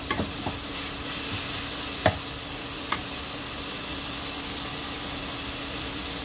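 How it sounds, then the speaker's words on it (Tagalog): Beef and onion stir-fried in a pan for beef monggo, giving a loud, steady sizzle with a few sharp spatula scrapes and knocks early on, then continuous hissing frying alone. "Halu-haluin lang natin yan hanggang sa maluto yung baka natin."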